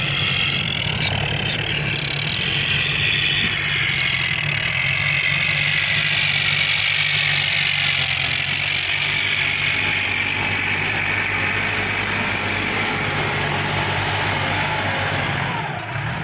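A tractor engine idles close by, a low even rumble with a constant hum that holds for the whole stretch without revving.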